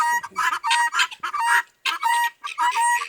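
Several fowl clucking and squawking close by in quick, choppy bursts, with short pauses between calls and no talking.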